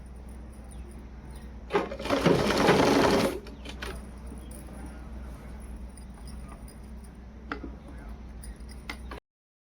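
A sewing machine runs a short burst stitching salwar fabric, a loud whirring rush lasting about a second and a half over quiet room noise, followed by faint handling clicks. No one speaks.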